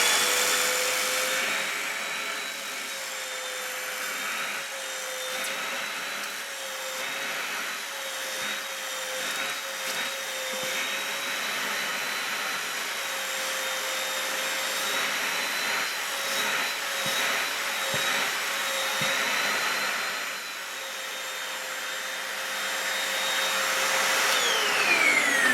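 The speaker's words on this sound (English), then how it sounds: "let's see how the vacuum cleaner works on this." A vacuum cleaner running steadily over a slouch hat, a continuous whining motor drone with a high tonal whine, close and fairly loud for about 25 seconds with slight shifts in pitch as the nozzle moves.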